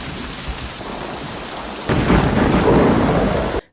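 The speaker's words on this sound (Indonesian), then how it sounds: "muncul suara geluduk di langit" Steady rain hisses on surfaces, then a heavy roll of thunder breaks in halfway and rumbles loudly with the downpour before cutting off abruptly.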